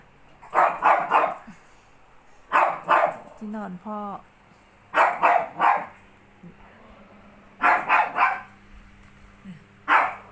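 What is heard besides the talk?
dog barking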